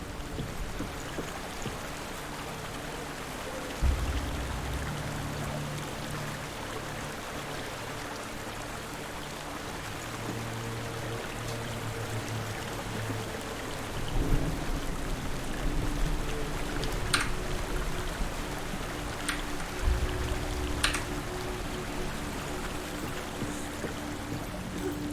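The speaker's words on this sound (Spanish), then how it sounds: "Que se oye el agua, coño." Steady flowing water in Hellblade: Senua's Sacrifice, a continuous broadband rush with occasional low thumps and faint high clicks, with no talking.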